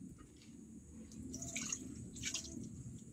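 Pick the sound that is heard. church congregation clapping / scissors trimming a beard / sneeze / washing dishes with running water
washing dishes with running water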